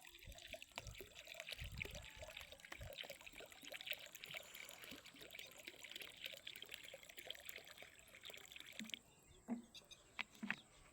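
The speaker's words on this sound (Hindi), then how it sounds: "ये पानी डाला जा रहा है।" Water trickles and splashes quietly into a bird water dish outdoors, a steady soft pouring with scattered drips, faint and fairly distant, alone without talk.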